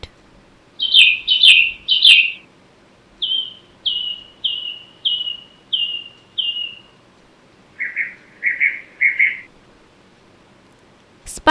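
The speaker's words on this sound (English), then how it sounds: "Bird," Small birds chirp in a run of quick, high notes: three sharp chirps, then a steady series of shorter tweets, then a few lower calls, heard clearly over faint background hiss.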